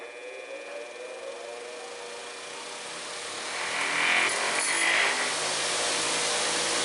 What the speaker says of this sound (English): Now that control box allows you to vary the speed of the grinder. I'll turn it on and then vary the speed